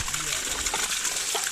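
Creek water rushes and splashes steadily, close and fairly loud, as drinks are set into the stream at a windy campsite, with a voice speaking over it.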